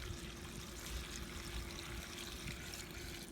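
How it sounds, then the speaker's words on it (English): Water poured steadily into a plant pot with no drainage hole, holding a Vanda orchid, giving a continuous close gurgling stream with no pauses or talk. "I need just to add water in a pot"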